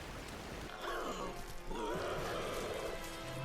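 Steady rain falls over the gloomy, waterlogged city of Atlantis in the video game God of War: Ghost of Sparta, a constant broadband hiss with low groaning vocal sounds rising over it partway through.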